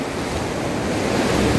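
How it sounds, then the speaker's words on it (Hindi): Ocean surf on a beach in Goa, a steady broadband wash of breaking waves with some wind rumble, close and fairly loud throughout with no voices. "हाँ ये गोवा का बीच है"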